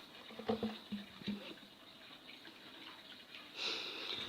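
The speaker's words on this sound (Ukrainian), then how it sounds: "Огірочки тільки мию, нічого не обрізаю." Tap water runs steadily at low level while cucumbers are washed for pickling, with a brighter rush of flow toward the end; no talking.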